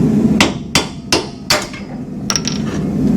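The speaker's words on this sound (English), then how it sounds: "we don't care about the bolt, so we're just going to knock it out" An old bolt with a square-notched shank being hammered out of a worn trailer wheel hub: four loud, evenly spaced metal strikes close by, then a lighter ringing tap or two.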